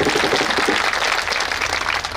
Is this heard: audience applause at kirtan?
yes